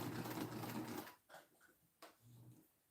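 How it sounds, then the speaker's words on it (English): A sewing machine runs steadily for about a second with a loud mechanical whir, then stops, followed by a few short bursts of stitching. "I've sewn with this model of a sewing machine"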